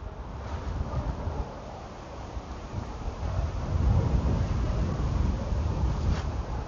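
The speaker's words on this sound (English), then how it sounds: "It's breezy." Breezy wind gusting across the open tidal creek at Skippool Creek, an old boat graveyard, a steady broadband rumble buffeting the microphone that swells louder partway through, with no talking.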